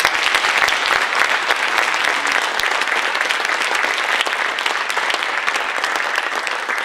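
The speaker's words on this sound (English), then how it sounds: "Give them a nice round of applause." Steady applause from a candidates forum audience for the District 51 debate candidates, a dense, even clatter of many hands clapping at once and holding a constant level throughout, with no talk over it.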